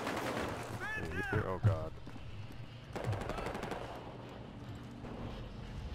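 Rapid automatic gunfire from the video game Battlefield: Hardline, sustained bursts rattling through most of the stretch with a player talking briefly over the shooting.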